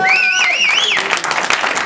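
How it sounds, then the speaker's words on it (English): Crowd applause with cheering and whistles from fans at an MMA press conference, a loud, dense wash of clapping that rises after a shouted call and stays steady, a high whistle sweeping over the start. "Give a round of applause"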